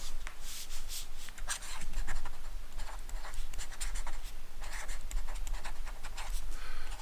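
Stylus scratching across a drawing tablet while sketching in a drawing program: steady, close rubbing strokes in quick rhythmic bursts, with no talk.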